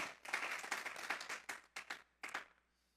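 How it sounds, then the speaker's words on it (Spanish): A church congregation gives faint applause in a few clapping bursts. A sustained stretch fades, then short broken bursts follow and die away into near silence. "Vamos a darle un fuerte aplauso pues al Señor."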